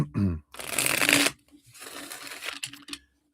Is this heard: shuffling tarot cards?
yes